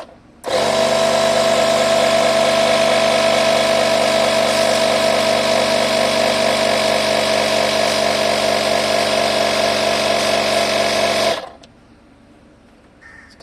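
Tusa portable smart tyre inflator running: a steady, loud motorised drone with a buzzing compressor hum that holds for about eleven seconds, then cuts off abruptly into quiet room tone.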